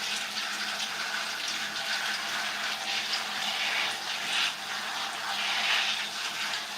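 Water splashes and streams steadily from a shower while conditioner is rinsed out of curly hair, a continuous close hiss with slight surges, no voices.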